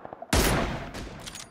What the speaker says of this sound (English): there's a lot of gunfire in the direction that we need to go